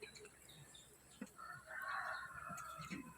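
Chickens at feeding time under a guava tree, a rooster-like crowing call rising in the middle with scattered clucks and faint background sounds around it.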